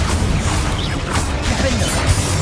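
Confringo fire spell blasts going off during combat in Hogwarts Legacy, a loud, unbroken wash of crashing, booming impacts and rumbling effects with no pause.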